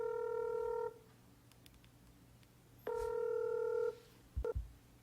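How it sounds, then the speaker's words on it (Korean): A telephone number is keyed in to place a call: steady push-button DTMF tones, a long tone, a pause, another long tone, then a couple of short bursts, close and clear with no talking. "전화를 한번 걸어볼게요."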